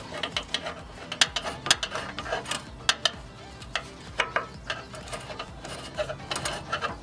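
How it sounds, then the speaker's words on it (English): A socket ratchet tightens a nut on a Hummer H2 front bump stop, giving close, crisp runs of rapid clicking in short bursts, with no talk. "I'll bring the socket, and we're going to hand tight it"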